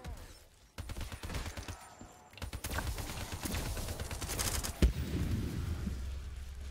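Man-O-War rifle fire in Black Ops 3 zombies, rapid bursts of gunshots crackling in dense volleys with a brief pause early on and a sharper crack near the end.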